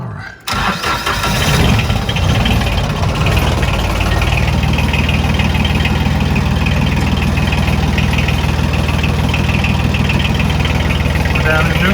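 A diesel engine cranks briefly, catches and settles into a steady, loud idle that runs close by, with a rough knocking rumble throughout; a voice talks over it.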